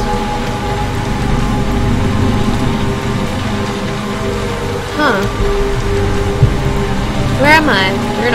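Rain in the video game The Lion's Song is a loud, constant wash of patter that fills the whole stretch, with a brief voice near the end.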